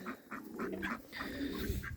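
Several rapid quacks from a wild duck close by, a short burst of nasal calls in quick succession.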